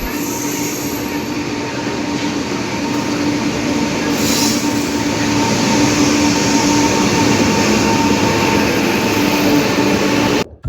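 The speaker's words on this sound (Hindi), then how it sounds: "लो, रेल भी आ ही गई।" Train pulling into an Indian railway station, a loud continuous rumble of wheels with a high squeal layered over it, steady for ten seconds before cutting off sharply.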